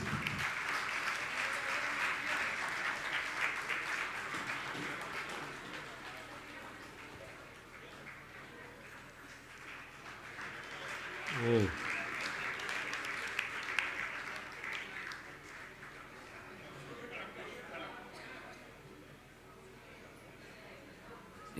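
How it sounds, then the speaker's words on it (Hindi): A large audience at a Jain religious gathering in Bhopal keeps up soft, continuous applause that swells and fades over about twenty seconds, heard faintly and somewhat distant, with a voice speaking over it partway through. "आप लोग तालियां बजाते रहें।"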